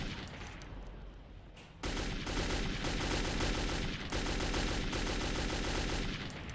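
Rapid automatic gunfire from Metro 2033 fills the space, a dense continuous burst of shots that starts abruptly and keeps hammering loudly with brief dips in intensity.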